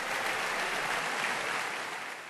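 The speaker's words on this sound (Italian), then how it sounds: "ad accogliere la sua nomina è un lungo applauso dell'emiciclo" A long round of applause fills the hemicycle of the Italian parliament as the new President of the Republic is elected, a dense, steady wash of clapping from a large assembly that holds evenly and tapers slightly at the end.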